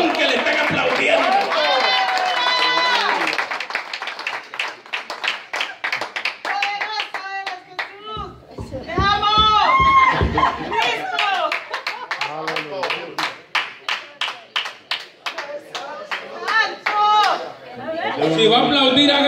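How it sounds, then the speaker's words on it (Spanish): Scattered hand clapping from members of a church congregation during a sermon, sharp claps coming in uneven runs while a preacher talks loudly over and between them. "Yo como que siento que hay unos hermanos aplaudiendo aquí"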